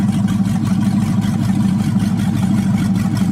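A fuel-injected 5.3 LS V8 swapped into a Firebird idles after a cold start, a loud, close, steady rumble with an even pulsing beat and no voices.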